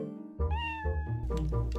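A cat in Zelda Twilight Princess gives a clear, close meow with a rising and falling pitch, set against steady low game music and ambience, with no talking.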